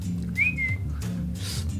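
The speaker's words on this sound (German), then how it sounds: "Erstmal pfeifen." A person whistles a short, clear note that slides slightly downward, heard once over a low background hum from a truck driving game.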